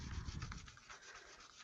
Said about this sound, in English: Just using the edge of it and just scraping right through it.